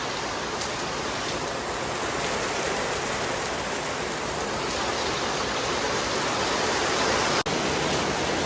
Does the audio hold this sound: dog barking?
no